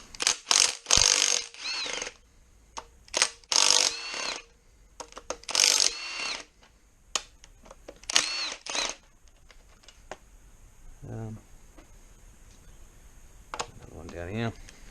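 A socket wrench ratcheting on bolts of a 4.0 Rover V8 engine during a rebuild, close bursts of rapid clicking repeated several times, then fading to quieter handling noises.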